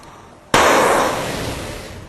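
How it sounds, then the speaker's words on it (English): Pyrotechnic explosion on a model railway layout: one sharp, loud burst cracks out after a quiet moment, then a hissing, crackling tail slowly fades. "These explosions were pretty basic"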